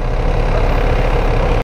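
A motorcycle engine idles close by at a BOSS Iron Man 2023 event, a loud, steady low rumble that holds unbroken until it cuts off abruptly at the very end.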